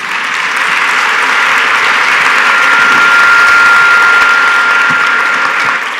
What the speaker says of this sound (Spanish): Ahora el aplauso para nuestros panelistas.